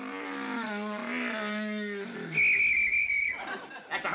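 A man imitates a hummingbird call with his voice: a sustained wavering hum glides downward, then breaks into a high, thin whistle that trails off.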